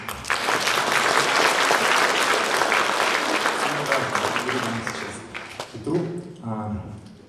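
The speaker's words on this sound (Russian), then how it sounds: "Петр Назарев, ваш аплодисмент." A concert audience gives loud, dense applause for an orchestra, which swells quickly, holds strong and then fades before a voice speaks near the end.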